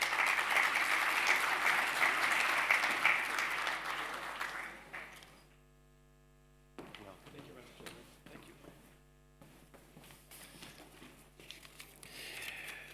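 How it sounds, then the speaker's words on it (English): Warm applause from a conference audience at a leadership event in Berlin, with dense clapping for about five seconds that stops abruptly, followed by a quieter room with a faint hum and a few scattered sounds. "Ladies and gentlemen, please give a warm round of applause for Jörg Rocholl, the president of ESMT Berlin."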